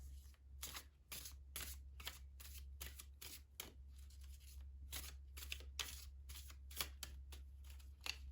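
Tarot cards are shuffled over and over in a steady riffling rhythm, each quick papery burst close and crisp, with a constant low hum running underneath.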